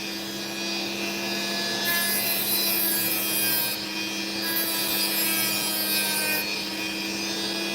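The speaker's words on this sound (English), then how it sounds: "so I'm carving it back a bit" Carving back the underside of an opal stone, a steady gritty grinding and rubbing with a constant motor whine and rising surges of hiss, close and moderately loud.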